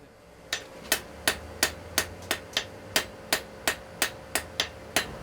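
A blacksmith's hammer strikes metal in a steady series of about fourteen sharp, ringing blows at a regular rhythm, moderately close, with a faint background hum and no talk.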